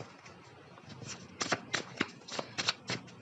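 Tarot cards are shuffled in a quiet room; soft riffling at first gives way to a run of sharp, evenly spaced bursts of card flicks, close and fairly loud.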